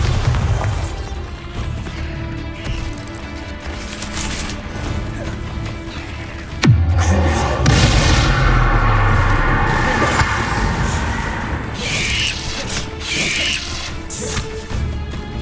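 The Bombarda spell in the Hogwarts Legacy game sets off a sudden loud booming explosion, followed by a long rumbling aftermath. The blast sits among continuous dense battle noise.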